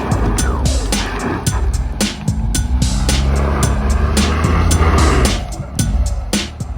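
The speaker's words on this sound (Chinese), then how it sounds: "油门就踩得更猛了。" A Mini straining up an off-road slope, its engine revving hard and loud, pitch rising and surging in repeated bursts as the four-wheel drive labors and the tires slip on the incline.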